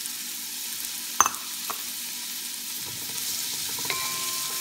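Onions and ginger sizzling in a pan, a steady quiet frying hiss with a sharp clink of a utensil and a few faint scrapes as they are stirred, heard up close.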